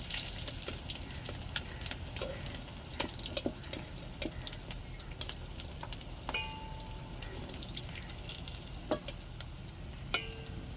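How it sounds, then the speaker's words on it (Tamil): Masala-coated manja parai fish pieces fry in oil, a faint steady crackling sizzle with scattered pops and light clinks throughout. "இப்போ நம்ம நல்லா மசாலா பொடி போட்டு விரைய வச்சுருக்கிற எல்லா மீனையும் பொரித்து எடுத்துக்கிடுவோம்."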